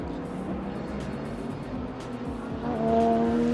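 A Bentley GT race car runs at Sepang International Circuit during qualifying, its engine a distant, steady roar that swells near the end as it draws closer and its pitch climbs.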